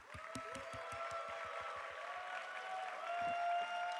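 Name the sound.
applause and cheering welcoming a pastor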